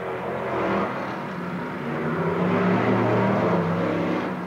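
Several race cars in the TopGearTrophy 88 race roar around the track, a loud steady engine drone that swells and eases as the cars pass, with no talk over it.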